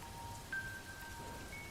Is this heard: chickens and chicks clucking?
no